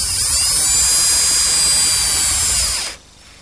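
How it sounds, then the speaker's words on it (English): Power drill whining steadily as it drives a 1 5/8-inch screw into a wooden router station, a close, loud sustained buzz that cuts off sharply near the end. "Line them up, and I secure everything with 1 5/8" screws."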